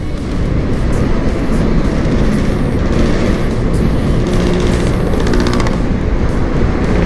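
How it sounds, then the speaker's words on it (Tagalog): A vehicle cruising at its top-speed limiter gives a loud, continuous rumbling roar with a droning wheel-hub hum throughout, and no voices are heard. "Umuugong yung hub kasi sa limiter."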